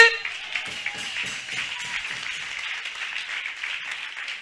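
A church congregation applauds to acclaim Jesus with a steady wash of clapping, moderately loud and continuous, with some voices mixed in.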